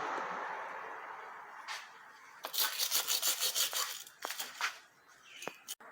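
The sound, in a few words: scrubbing a transmission pan before removal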